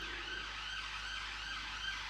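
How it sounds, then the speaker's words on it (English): An ambulance siren wails steadily at a distance, a faint continuous tone held over a low background rumble with no talking. "Ambulance. Police car? Ambulance."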